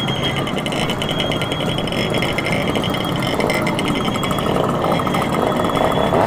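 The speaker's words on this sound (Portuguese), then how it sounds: "Travando aqui com o motor." Motorcycle engine braking on a slow ride through rural inland Portugal: a loud, continuous, buzzing engine drone holds steady throughout with no break.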